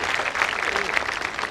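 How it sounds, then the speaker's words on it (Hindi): An audience at a Hindi comic poetry gathering breaks into loud, steady applause, a continuous wash of many hands with a faint voice briefly audible beneath it. "भरपूर तालियों से स्वागत करो।"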